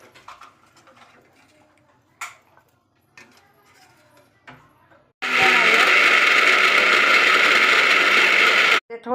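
After a few seconds of faint clatter and handling noises, a kitchen mixer grinder starts up loudly, grinding masala in a steady, harsh whirring roar for about three and a half seconds before stopping abruptly.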